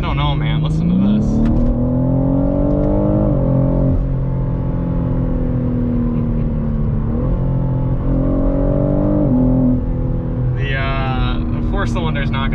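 A 2021 BMW M3 Competition engine revs hard and continuously, climbing in pitch, dipping, then climbing again, loud and close, with brief speech at the start and end.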